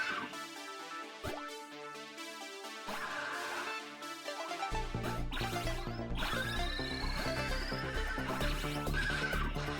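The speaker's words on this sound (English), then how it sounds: "nothing says fun like watching a pixelated horse do somersaults" A horse whinnies in the Cyberpunk 2077 horse-jumping minigame, alongside clip-clop hooves and a crash, over steady game music.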